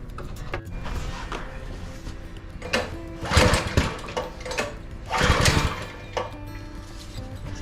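A cheap go-kart's small engine is cranked in several loud, uneven bursts that surge and fade, as if it is catching and revving briefly, with mechanical rattling close by.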